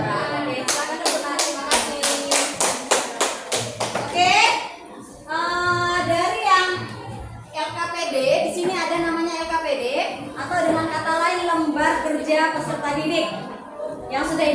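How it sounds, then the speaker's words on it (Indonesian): A classroom of students claps in a quick, rhythmic burst of sharp hand claps, close and loud, followed by a teacher speaking, with children's voices and shuffling around. "Oke, silakan tepuk tangan."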